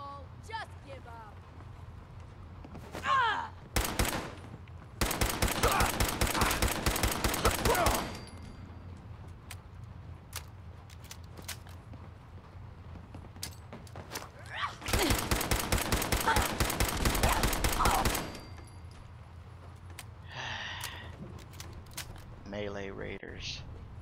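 Bursts of automatic gunfire in the video game Fallout 4, two long sustained volleys of rapid shots with scattered single shots between them, loud and close, with brief voices in the pauses.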